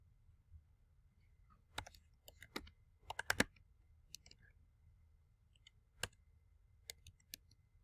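Keys clicking on a computer keyboard while a headline is typed into a graphic design layout, in short irregular bursts with a few louder clacks and pauses between, close and alone without speech.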